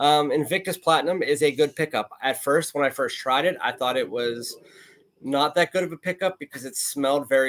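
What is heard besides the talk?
None of the usual background noises is heard.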